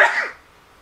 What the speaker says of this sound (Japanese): ちょっと待って、くしゃみ出るわ